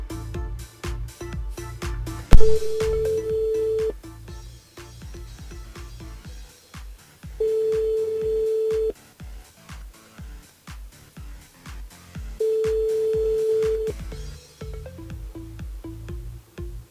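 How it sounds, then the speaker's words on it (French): A telephone call placed live on a radio show rings out as three long, steady ringback tones spaced several seconds apart over a rhythmic background beat. "On appelle Gwendoline du côté de la possession"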